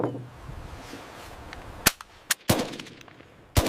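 AK-47 rifle fired during live fire testing: three sharp, loud reports spaced apart in the latter half, each a crisp crack with a brief tail, following a few seconds of low ambient noise.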